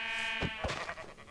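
A sheep in the Minecraft video game bleats once, a short, loud, wavering cry heard alone and close.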